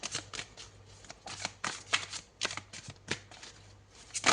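Tarot cards being shuffled by hand: a quick run of crisp riffling bursts in an uneven rhythm, close and fairly quiet, with no voice over them.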